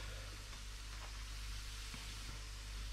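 Floured squid pieces frying in a pot of hot oil, a steady hissing sizzle with faint crackles and no talking.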